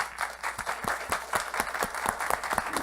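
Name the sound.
audience applauding panel guests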